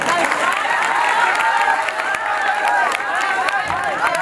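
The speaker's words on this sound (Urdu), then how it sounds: "نظم ختم ہو چکی ہے، آپ تالی بجا سکتے ہیں" A crowd claps and cheers after a nazm recitation at an Ajmer Sharif dargah gathering, a dense, steady wash of applause mixed with murmuring voices and scattered calls.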